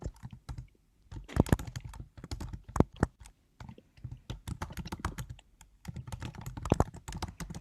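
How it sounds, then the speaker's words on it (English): Rapid clicking of computer keyboard keys in irregular bursts with brief pauses, fairly close and alone with no talking, the sound of someone typing busily. "Lots of typing."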